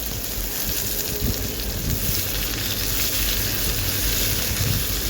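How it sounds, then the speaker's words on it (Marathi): Steady, dense sizzling of onion sautéing in hot oil, loud and continuous throughout with a low rumbling undertone and no voices. "थोडंसं परतून घेऊया"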